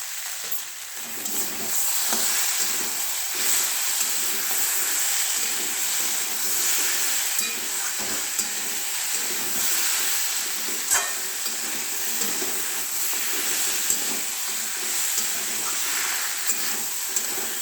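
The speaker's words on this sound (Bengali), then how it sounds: "ফ্রাই হয়ে এসছে।" Vegetable curry fries steadily in a pan after chili powder and black pepper powder go in, a dense continuous sizzle with occasional stirring scrapes throughout, fairly loud and close with no talking.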